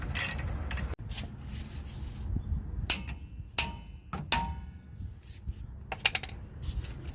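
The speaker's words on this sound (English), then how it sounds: "I'm going ahead and tap that with a hammer." A hammer taps on a 2017 Toyota Tundra during a brake pad job, several sharp separate metallic knocks at irregular intervals, close by over low background rumble.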